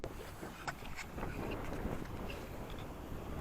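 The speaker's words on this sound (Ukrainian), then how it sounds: "дуже сильний вітер" Low rumbling wind buffeting the microphone while fishing on the Dniester River, continuous and gusty, with a few faint clicks and splashes on top.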